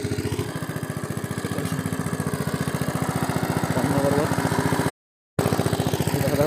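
An engine-driven water pump machine in a village runs steadily, its low mechanical pulses throbbing close by and loud, with a brief cut in the sound near the end.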